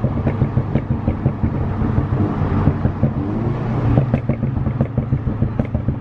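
A BMW F30 328i with a Bootmod3 tune accelerates hard, its loud exhaust roaring continuously with sharp crackles and pops throughout, close and dominant.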